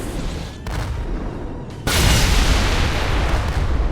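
Heavy MAC cannon fire from a Halo ship in the Roblox game Project Stardust: a dense, loud booming barrage that surges sharply partway through and keeps rumbling steadily to the end.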